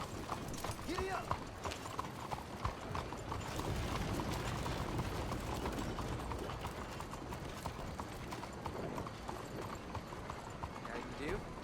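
Horse hooves clip-clop steadily through Red Dead Redemption 2, a rhythmic patter of close hoofbeats that runs throughout over a busy bed of ambient noise, with scattered louder knocks.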